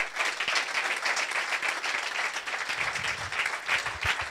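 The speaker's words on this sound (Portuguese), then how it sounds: "quero uma grande salva de palmas para o Guilherme Fonseca" A live comedy audience applauds comedian Guilherme Fonseca, dense sustained clapping filling the room, fairly loud and continuous without a break.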